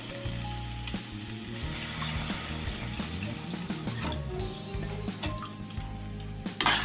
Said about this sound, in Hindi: अब मैं इसमें डालती हूँ थोड़ा सा पानी।